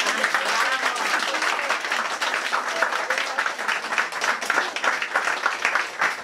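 Sustained applause from an audience at a book event in a bookstore in Calafat, steady dense clapping throughout.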